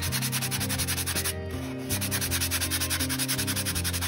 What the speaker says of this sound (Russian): То есть я просто такими вот движениями подшкуриваю слегка.